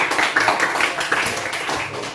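A classroom of students claps for a classmate who answered a question, producing a continuous, moderately loud patter of many hands with faint voices mixed in.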